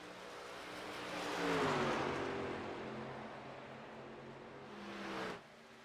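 Race trucks roar past lapped cars at Homestead, one engine swelling to a loud pass and fading, with a steady whine underneath before cutting off sharply.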